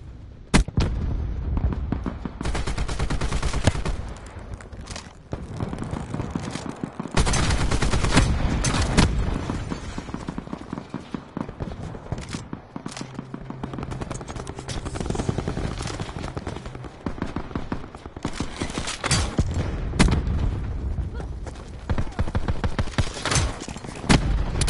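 Rapid gunfire from a Call of Duty match on the Alcatraz map, dense bursts of automatic shots and loud bangs running almost continuously, near and punchy, with brief lulls between volleys.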